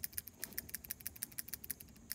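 A mechanical pencil, just reassembled after clearing a lead jam, clicked over and over in a quick steady rhythm of sharp, light, close ticks, about eight per second, with no voices.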